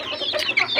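A crossbred chicken, kampung hen bred with the bangkok fighting breed, gives a few quick close clucks in one brief burst, alone with no talk.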